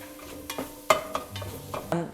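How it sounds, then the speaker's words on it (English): Spoon stirring roughly chopped vegetables in a pot for a delicata squash pot pie, a few scraping clinks and soft knocks spread over a short stretch with a faint sizzle underneath. "Gonna give it a stir every once in a while."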